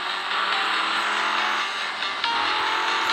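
A Lamborghini sports car in a video game whooshes past in a steady, bright roar, fairly loud and continuous for a few seconds, with no talking.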